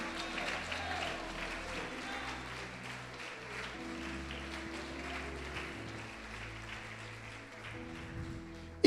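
A church congregation applauds during a sermon, soft, steady clapping spread over several seconds beneath a low, sustained musical drone, ending with a brief sharp knock.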